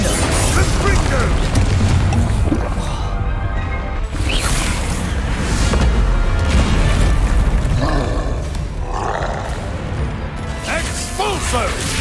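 Explosive Expulso spell blasts in Hogwarts Legacy, heavy booms and crashing impacts amid continuous combat clatter and mechanical noise, loud and dense throughout, with grunting voices mixed in.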